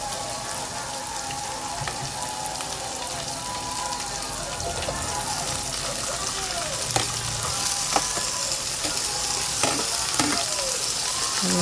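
Tomatoes sautéing with garlic in a pan for sinigang sa miso with pink salmon, a steady close sizzle running throughout, with occasional scraping stirs and small pops, no voices.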